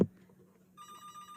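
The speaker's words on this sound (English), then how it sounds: "Sorry about the phone in the background" A telephone rings faintly in the background after a short thump, its bright electronic tone starting partway through and continuing steadily until the end.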